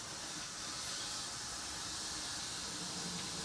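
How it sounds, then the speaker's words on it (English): Tap water runs steadily into a basin as it is filled for a care procedure, giving a continuous broadband hiss that lasts the whole clip at a moderate level, with no talk. "I'll use a paper towel to turn the water on."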